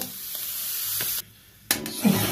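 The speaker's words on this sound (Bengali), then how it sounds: "সুজিটা ভেজে নেবো লাল লাল করে, বেশি লাল করবো না, হালকা লাল করে একটু ভেজে নেবো।" Semolina frying in a little oil in a hot wok, a short soft sizzle that drops out briefly then returns with a stir.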